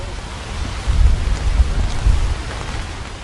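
Pouring rain and strong wind sweep a street in Vilnius during a teachers' march, heard as a dense, steady hiss with low gusty rumbles swelling and fading, no voices.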